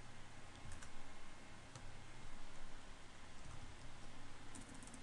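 Someone types a command on a computer keyboard while setting up a server, faint key clicks buried under a steady loud hiss that covers the whole stretch, with no voices.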